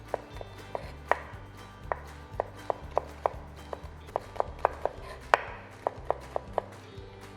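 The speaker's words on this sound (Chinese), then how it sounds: "蒜头你要切蒜片或者是蒜碎都可以" A knife chops garlic on a board in a steady run of crisp taps, about a dozen quick strikes heard close and moderately loud, with no talking.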